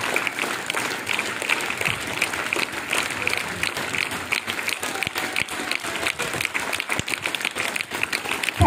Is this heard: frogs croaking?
no